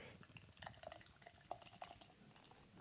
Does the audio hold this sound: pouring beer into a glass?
yes